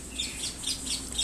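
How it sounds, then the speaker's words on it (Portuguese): Small bird chirping nearby, a series of quick, bright repeated calls in a regular rhythm, fairly faint but clear, with no talk over it. "Desculpa aí o passarinho aqui"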